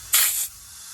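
A short sharp hiss of compressed air from a hose filling a plugged trailer tire, one burst lasting about a third of a second before cutting off into quiet.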